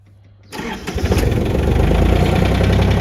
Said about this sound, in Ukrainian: Зараз я його заведу.